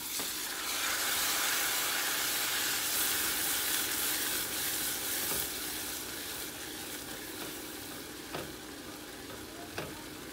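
Jerk chicken and shrimp seasoning mix sizzling and frying in a hot pan as water is stirred in, a continuous bright hiss with occasional scraping stir sounds, fairly close, with no talking.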